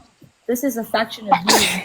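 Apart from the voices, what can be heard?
sneeze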